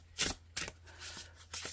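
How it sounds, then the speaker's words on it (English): Oracle cards being shuffled by hand, three quick rustling riffles spaced about a second apart, close and crisp with a quiet pause between bursts and no voices. "let's give them a shuffle"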